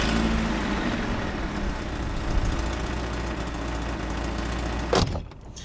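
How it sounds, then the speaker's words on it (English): A BMW E36 engine with an exhaust leak, set up as a budget drift car, runs with a loud, steady, raspy rumble close by. It then cuts off abruptly near the end, leaving quieter background. "So as you can probably tell from the sound of the car just starting up, it does have an exhaust leak."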